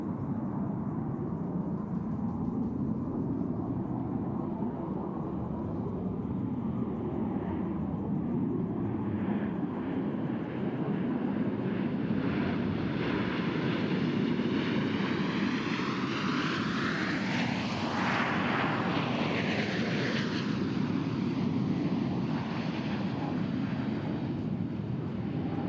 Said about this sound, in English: From the right, at 378 miles per hour, the Blue Angel Echelon Parade.